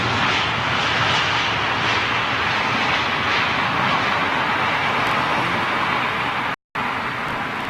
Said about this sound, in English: Powered by Rolls-Royce, of course. There's your MEA 320.